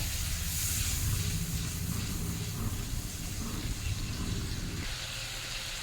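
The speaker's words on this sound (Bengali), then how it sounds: "মশলাগুলো ভালো করে কষিয়ে নেব।" Spice masala with tomato and a splash of water being fried in a pan for an egg curry, giving a continuous, dense sizzling hiss that stays loud and close throughout.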